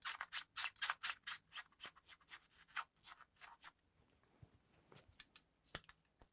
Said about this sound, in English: I'm gonna clean up these contacts with some magic eraser real quick